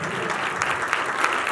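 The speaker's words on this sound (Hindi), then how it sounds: "जोरदार ताली देंगे प्लीज" A congregation claps loudly at a church service, a steady wash of applause with a few sharper claps standing out.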